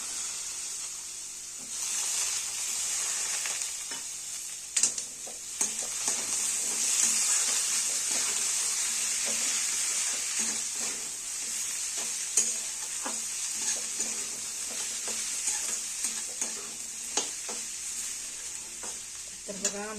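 Brinjal pieces for a village-style mixed vegetable dish frying in a pan with a steady bright sizzle throughout, broken by repeated close clinks and scrapes of a spoon stirring.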